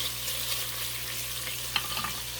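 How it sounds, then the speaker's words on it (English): Bacon frying in a pot, a steady soft sizzle and crackle that runs the whole time at a low level, with one small pop near the end and no voices. "we have our bacon cooking off"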